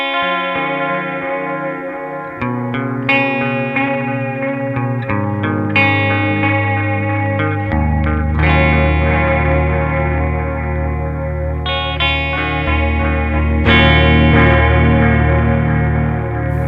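Empress Chorus vibrato wobbling the repeats of a Red Witch Titan delay pedal behind a distorted electric guitar, loud sustained chords and notes that shift every couple of seconds and trail off in warbling echoes.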